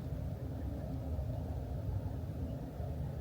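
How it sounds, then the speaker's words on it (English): A steady, low rumble of distant M25 motorway traffic hums continuously, faint and unbroken, with no voices. "the traffic, can't you, out there on the M25?"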